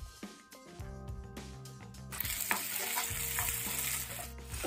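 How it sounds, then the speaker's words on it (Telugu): Chopped tomato and onion fry in a pan, a close bright sizzle that starts with stirring and scraping clatter and builds into continuous crackling hiss, with no voices. "ఈ విధంగా మంచిగా టమాటా ఉల్లిపాయ ఫ్రై అయిన తర్వాత"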